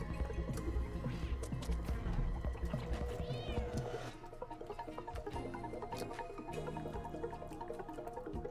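A cat meows in a video game where the player is a cat, its short calls sitting over busy game music and soft watery dripping effects.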